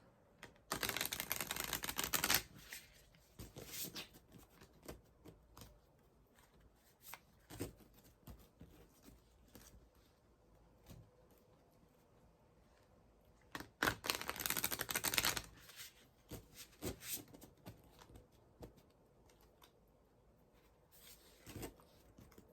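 Two bursts of rapid oracle card shuffling, crisp riffling up close, separated by quieter handling and tapping of cards; no talking.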